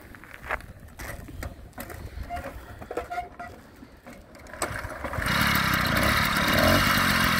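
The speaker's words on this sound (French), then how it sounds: "Et ça démarre au quart de tour." A Peugeot 103 L moped is kicked over with rattling mechanical clicks and pedal strokes, then the engine catches and settles into a loud, steady two-stroke buzz, heard close by.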